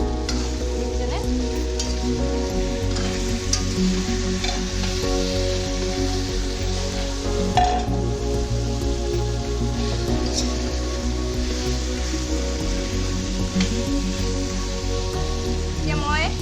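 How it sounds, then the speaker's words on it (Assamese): Local chicken sizzling and frying in a pan with potatoes about to be added, a continuous crackling hiss that stays steady throughout. Low hum and background noise sit underneath. "এতিয়া মই অলপ সময় ভাজি ল'লোঁ"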